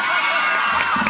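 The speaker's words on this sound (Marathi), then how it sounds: "एकदा जोरदार टाळ्या वाजवा" Crowd at a Bhim Mahotsav festival game show cheers and claps loudly for a winning contestant, a dense continuous roar of applause with shouting children's voices mixed in.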